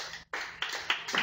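Brief, scattered clapping from a live comedy club audience, a few bursts of hand claps with a short gap, fairly quiet and close.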